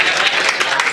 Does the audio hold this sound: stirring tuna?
no